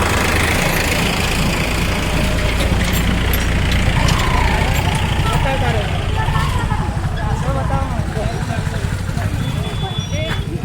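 A motorcycle engine runs steadily and close while the bike is ridden through a river on the way to Sapteshwar, its low rumble continuous beneath people talking throughout.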